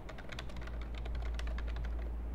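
Someone types a full name on a computer keyboard, a steady run of quick light key clicks, close and continuous with a low background hum.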